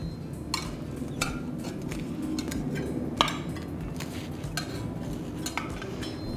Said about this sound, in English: So we're just going to scrape the sides.